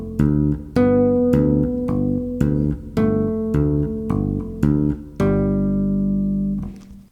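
A bass guitar played by tapping picks out a melody over a bass line in clean, evenly spaced plucked notes, each ringing briefly, ending on one longer sustained note that fades out.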